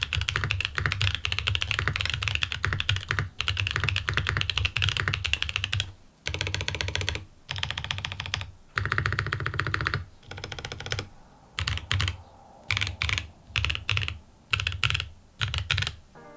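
Keys clack on a MODE Sonnet mechanical keyboard in steady bursts of fast typing, crisp and close, with brief pauses between runs and no talking.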